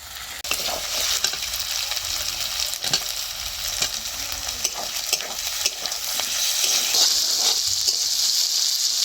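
Chopped tomato sizzles in hot oil with fried ginger and garlic, a steady bright frying hiss with scraping spoon stirs and light clinks running throughout, no voices.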